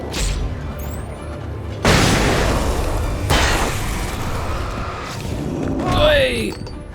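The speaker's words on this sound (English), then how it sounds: "Flashbangs." Flashbangs go off in Alan Wake, two sudden loud bursts about a second and a half apart, each leaving a broad hissing wash, with a person speaking and further game sounds around them.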